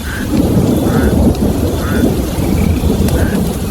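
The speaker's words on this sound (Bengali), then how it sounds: "আজ আর বৃষ্টি ছাড়ার নাম নেই, তখনও আকাশ কালো মেঘে ছেয়ে আছে।" Heavy rain pours steadily and close, with low rolling thunder rumbling underneath throughout; no voices.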